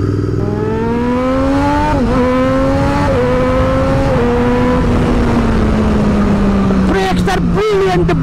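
Triumph Daytona 675R motorcycle screaming at top speed, a loud sustained engine whine holding high through short gear-like dips, with heavy wind roar throughout and a brief buffeting burst near the end.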